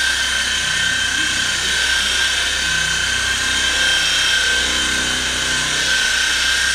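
A polishing machine wet sanding a car runs continuously at about 1800 speed, a steady high-pitched whine over a constant motor drone, unchanging throughout.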